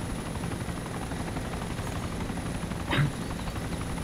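Helicopter in the Arma 2 DayZ mod, a Merlin, gives a steady broadband rotor and engine drone throughout, with a brief louder swell near the end.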